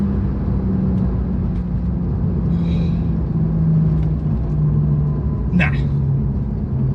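Porsche 911 992 Turbo S accelerating at full throttle, heard from inside the cabin as a steady, loud low rumble with road noise, with a few short exclamations from people on board.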